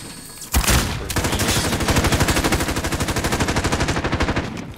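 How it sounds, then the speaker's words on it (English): Loud automatic gunfire from a single gun in Call of Duty Search and Destroy, a sharp first shot followed by a long steady rapid burst that goes on throughout. "That gun is so fucking loud."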